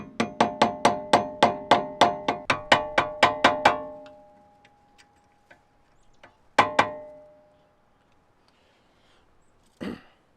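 A rapid series of about a dozen sharp metallic taps as a hammer strikes a small screwdriver against a Honda Insight suspension dust cover, then a few scattered isolated knocks with quiet gaps between them.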